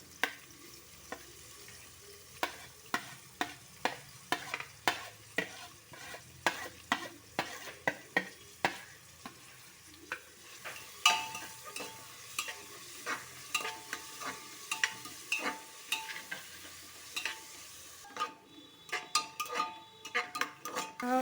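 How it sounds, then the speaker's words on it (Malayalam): Sliced onions being stirred and sautéed in a pan for a pressure-cooker biryani: a soft frying sizzle under repeated sharp scrapes and clinks of a spoon against the pan, close and rhythmic, with no talking. "സവാള ഇട്ട് കൊടുക്കാം സവാള ഒരുപാട് അങ്ങ് ബ്രൗൺ കളർ ആവണ്ട ഒന്ന് വഴണ്ടു വന്നാൽ മതി"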